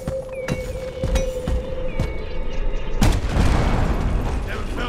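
Explosions and clattering mechanical gunfire in the mining co-op shooter Deep Rock Galactic, with sharp blasts near the start and a dense, loud burst of detonations from about three seconds on.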